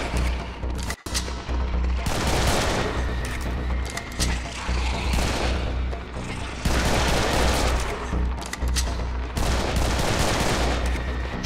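Dense gunfire from the video game Serious Sam 3: BFE, loud rapid bursts and booming shots running almost nonstop, with brief lulls between volleys and no talking over them.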